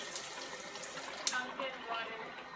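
Tap water rushes steadily through a Kangen water ionizer machine, a continuous close hiss of flowing liquid with a brief splashy burst midway.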